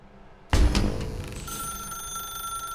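Telephone ringing in the video game The Stanley Parable: Ultra Deluxe, a sudden loud ring bursting in after half a second of quiet, then a sustained bright ringing tone that lingers.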